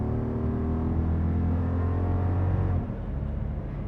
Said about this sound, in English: You're getting that same muscle car sound.